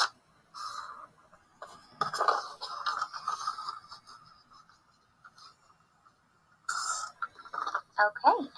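A pencil scratches and scrapes across paper in uneven strokes while diagonal lines are drawn for a shoo fly quilt pattern, close and fairly quiet, with pauses between strokes.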